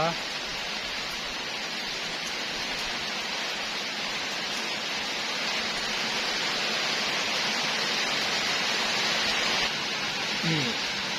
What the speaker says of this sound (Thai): ฟังเสียงฝนไปก่อนเด้อ